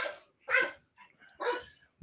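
A dog barks in three separate sharp bursts close by, with short gaps between them and no talking over it.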